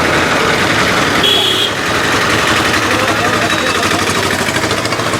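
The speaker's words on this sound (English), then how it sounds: "then they pull it in this tractor and wagon to get rid of it" A nearby tractor engine idles with a steady low rumble and vibration, loud and continuous throughout, in Nawalgarh, India.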